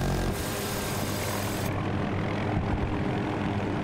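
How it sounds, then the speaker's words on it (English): An enemy helicopter in the video game Battlefield 2042 roars as a steady, loud rotor and engine drone that fills the whole stretch without pause. "You got an enemy chopper at A2."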